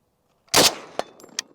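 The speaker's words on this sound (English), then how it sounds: "I'm just curious if the PSL will fire them." Two sharp rifle shots from a PSL rifle fired at a steel target, the first loud blast followed by a crisp crack and faint metallic rings from distant steel hits, with no talk.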